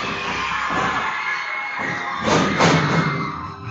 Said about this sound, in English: this crowd has gone absolutely crazy